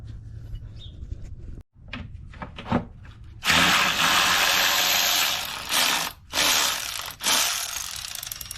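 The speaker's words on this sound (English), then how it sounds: "now we are ready to remove this bolts right here" Ratchet clicking as it loosens oil filter housing bolts on a 2017 Dodge Journey, with a few short clicks and clunks first, then long rapid bursts of ratcheting broken by brief pauses, close and fairly loud.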